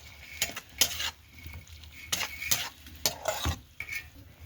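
Spices and spinach get stirred in a hot cooking pan, with repeated scraping strokes and soft sizzling in close, irregular bursts.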